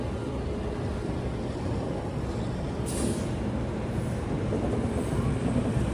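An Indian Railways passenger train pulled by a WP7 locomotive rumbles past with a steady, loud rolling roar and clatter, broken by a brief hiss partway through.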